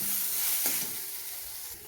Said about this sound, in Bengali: এইভাবে আমি এখন কিছুক্ষণ ভেজে নেব।